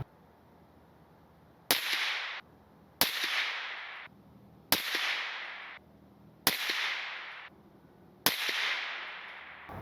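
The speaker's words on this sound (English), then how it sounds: "putting the suppressor back on the gun and firing another 5-round group." Five evenly spaced shots from a suppressed KGM R30 rifle at a 100-yard range, each a sharp crack followed by a decaying tail, with quiet gaps between.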